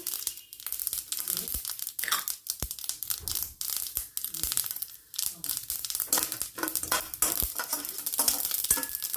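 Chana dal sizzles and crackles in hot oil with mustard seeds, with stirring scrapes and rustles, a busy, close crackling texture with no talking.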